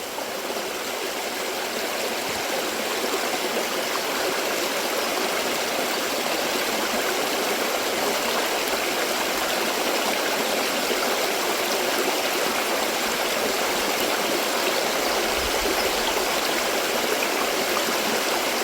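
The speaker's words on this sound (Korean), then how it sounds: "물소리하고 새소리를 한번 들으시면서" Steady rushing of a mountain stream, water flowing continuously and fairly close, a dense unbroken wash with no voices.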